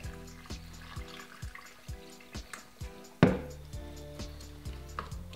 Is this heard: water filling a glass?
yes